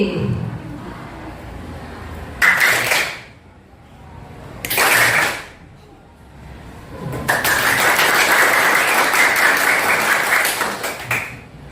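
A class of teachers claps in three bursts, two short ones then a longer sustained round of brisk hand clapping, with quiet murmuring in the pauses.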